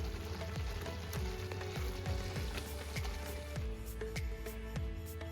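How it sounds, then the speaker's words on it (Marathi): A spoon mashes besan smooth in a pan while it cooks for Marathi jhunka. Soft, regular squishing scrapes come roughly twice a second over a faint background sizzle, close and quiet. "ह्या अशा गाठी होऊ द्यायच्या नाही आहेत यामध्ये, तर चमच्याने जसं स्मॅश करायचं"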